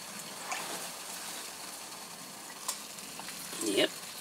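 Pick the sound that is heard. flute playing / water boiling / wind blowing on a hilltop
water boiling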